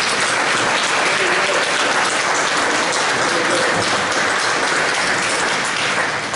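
An audience at a 2019 CHS Music Hall of Fame ceremony applauds in a dense, continuous roar of clapping that stays loud and even throughout, with no talk over it.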